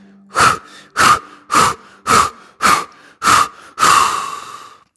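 Seven sharp, forceful breaths during a yoga practice, each a quick nasal inhale and exhale in steady rhythm, the last longer and trailing off into a drawn-out release, close and loud with no talking.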